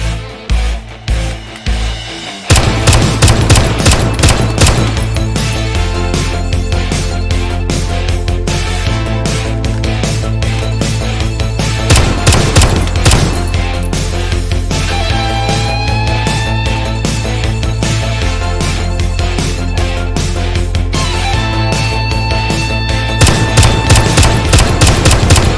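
Rapid bursts of clicking, rattling fire from Lego M1911 pistols, including AMT Hardballer longslide builds, under loud music with a steady beat; the shots come in quick repeated volleys that run through most of the stretch.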